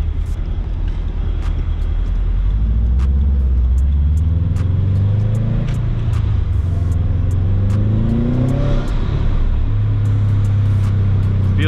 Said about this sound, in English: Idle is very smooth now.